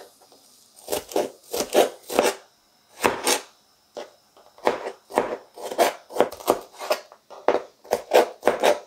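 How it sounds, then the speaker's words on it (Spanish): Knife chopping onion and tomatoes finely on a cutting board for ranchera salsa, with rapid, crisp taps in short bursts and brief pauses between runs, close and clear. "Nuestros demás ingredientes los vamos a picar finamente, la cebolla y los tomates"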